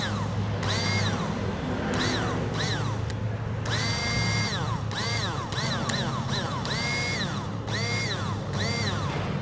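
A Thai-made long-magnet motorcycle starter motor whirs on a test bench in repeated short bursts, each spin winding up to a high whine and then cutting off, loud and close.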